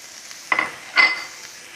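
Diced ham hits a hot pan for breakfast burrito bowls, giving two short bursts of sizzling and stirring, each fading quickly, close and moderately loud with no talking.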